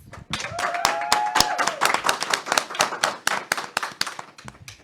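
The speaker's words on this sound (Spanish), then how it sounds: "demos un fuerte aplauso por esta emisión más" A small studio crew claps at the close of a broadcast, with distinct individual hand claps in a brisk, uneven rhythm, close and fairly loud, and a brief tonal sound early on.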